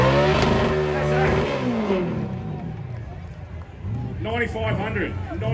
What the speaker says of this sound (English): How's those revs? How's that?